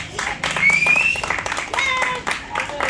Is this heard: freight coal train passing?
no